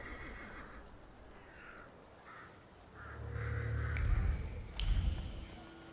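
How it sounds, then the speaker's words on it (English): A horse whinnies in a sharp, rising call, followed by a lower snorting neigh, against a quiet background, in the video game The Thaumaturge. "I meant to take the horse out for a ride"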